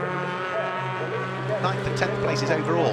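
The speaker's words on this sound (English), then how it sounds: "So 3 cars heading towards us now." Sports 2000 racing cars at Donington Park in a 2021 race hold a steady, loud engine drone as they approach, with someone commentating over the noise throughout.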